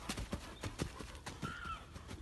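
Horse cantering during jump training, hooves thudding in a steady three-beat rhythm, faint and somewhat distant, with a brief higher tone midway.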